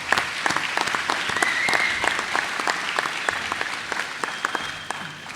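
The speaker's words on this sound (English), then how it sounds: "Give yourselves a round of applause" Graduation audience at Perry Technical Institute breaks into sustained applause, a dense wash of many hands clapping steadily for several seconds, fairly close and full, fading slightly toward the end.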